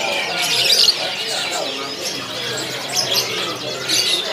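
Many dark-coloured canaries chirping and trilling together in a bird market kiosk, a busy bright chorus of tweets close by, with someone talking over the birdsong.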